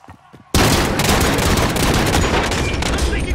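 Sustained gunfire in Call of Duty: Modern Warfare: after a brief quiet lead-in, a loud, dense burst of rapid automatic shots erupts and keeps going without pause until the end.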